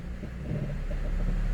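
Honda HR-V engine running with the clutch engaged, a steady low rumbling drone with an abnormal noise, continuous and fairly loud close to the microphone, with no talking.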